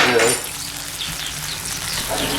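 Porcupine meat browns in a pan over a campfire-style cooking setup, a steady soft sizzle and crackle running the whole time, louder at the start, with no talk.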